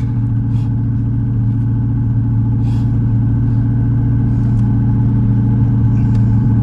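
A 1985 Chevrolet Camaro Z28, abandoned for 13 years, runs with a loud, steady low V8 rumble close by, holding an even idle throughout with a slight rise toward the end and no talk.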